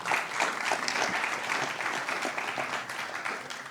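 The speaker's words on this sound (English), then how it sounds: "Round of applause first." Steady, dense applause from a conference audience after a lightning talk, filling the whole stretch with continuous clapping and no speech.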